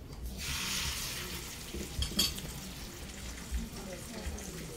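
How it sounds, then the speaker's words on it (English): Fish seared skin side up in a hot pan, giving a steady broadband sizzle that swells early and then settles into a constant hiss, with a few faint utensil clicks. "we just want to sear it with the skin side up"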